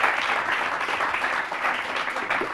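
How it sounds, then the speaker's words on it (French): An audience claps for a young speaker who wants to be an engineer, a brief burst of moderate applause that dips midway and swells again. "on applaudit un futur ingénieur"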